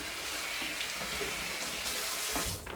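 Rice paper dipped under running tap water: a steady hiss of faucet water splashing over the sheet, close and continuous, with small shifts as the paper moves through the stream.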